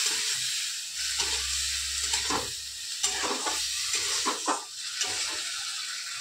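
Garlic-chilli paste fries in a pan with a steady sizzle, while a utensil stirs it with repeated scraping strokes, close and moderately quiet.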